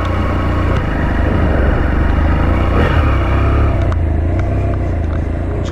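A 2018 BMW F 800 GT motorcycle engine drones loud and steady under riding wind, a continuous low rumble with only slight swells in pitch.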